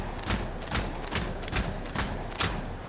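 Rapid heavy blasts from a nine-barrel semi-automatic shotgun in the Blood Hunt video game, about six booming shots in quick irregular succession, loud and close.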